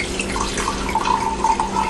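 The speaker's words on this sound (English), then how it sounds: "I'll just pour myself a little vino here" Red wine poured from a bottle into a glass in a home kitchen, a steady liquid trickle with gurgling bursts growing toward the end, close and alone.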